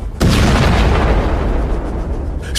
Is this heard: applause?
no